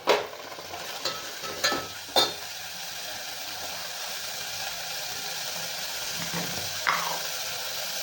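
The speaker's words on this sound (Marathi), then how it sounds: "मटकीला छान परतून घ्यायचं आहे आपल्याला" Moth beans sautéing and stirred in a pan for misal, with a steady soft sizzle and a few sharp spoon scrapes near the start and one more later.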